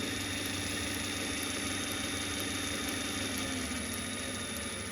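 A brand new motor runs on a South Bend Model C lathe, a steady even electric hum with a faint regular ticking, constant in level and close by.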